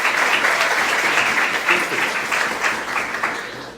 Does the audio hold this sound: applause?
yes